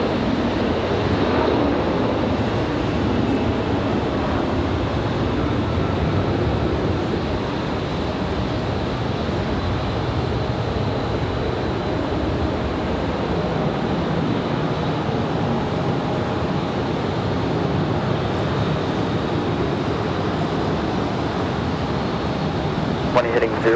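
A United Express airliner operated by Republic Airways at Raleigh-Durham airport gives a steady, broad engine roar that holds at a fairly loud level throughout, with a voice talking over it at times.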